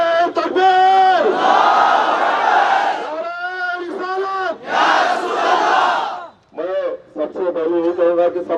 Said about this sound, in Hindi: सभी हजरात से ये गुजारिश करता हूँ कि जोर से नारा दे, नारे तकबीर